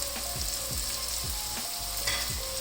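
Finely chopped onion fries gently in a pan over a low flame, a steady close sizzle with a few soft rhythmic stirring scrapes and no voices.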